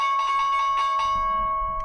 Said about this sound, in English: Sorry, that was the market open bell.